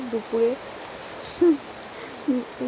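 Heavy afternoon rain makes a steady, even hiss, broken by a few short tonal calls that stand out briefly above it.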